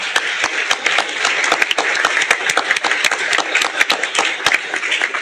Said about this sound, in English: I want you to thank the panel with a quick round of applause.